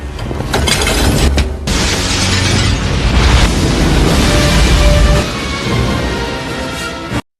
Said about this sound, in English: Ethan lumped up the gum and intended to blow up the aquarium there.